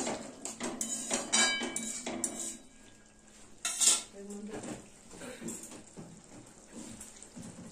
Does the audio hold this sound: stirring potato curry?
yes